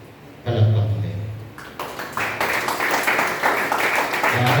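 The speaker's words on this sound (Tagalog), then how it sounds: "Palakpak mo din." Audience at a youth convention breaking into applause, a voice speaking first and then scattered clapping building into a steady round of many hands, close and moderately loud.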